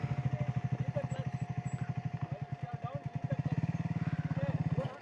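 An off-road motorcycle at a dirt-riding training camp, its engine throbbing in a fast, steady low pulse close to the microphone the whole time, cutting out abruptly near the end.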